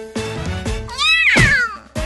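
A cat meows clearly and close, a rising-then-falling cry after a couple of short soft sounds, with another brief sound starting at the end.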